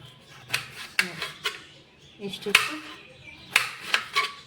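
A knife cutting food during home cooking, giving sharp, close knocks of the blade against the board at an irregular pace, with a few clinks of metal between the cuts.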